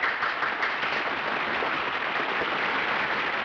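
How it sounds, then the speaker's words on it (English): A crowd gives steady, continuous applause, a dense even wash of many hands clapping that holds at a constant level throughout, with no talking over it. "Come on, applaud"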